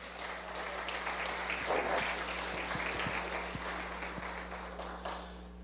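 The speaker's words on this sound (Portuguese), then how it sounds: "Será que você pode aplaudir a Jesus?" A church congregation applauds during a sermon, a steady, fairly soft clapping that fills the room for several seconds under a constant low electrical hum.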